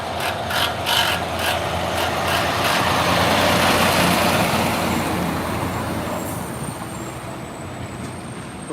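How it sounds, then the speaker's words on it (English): A liquid nitrogen tanker truck drives past the main gate at SpaceX Starbase in Boca Chica, Texas, on a summer evening: a loud, broad engine and road roar that swells up close, then slowly fades as it moves away, with no talk. "Okay, that was a liquid nitrogen trucker."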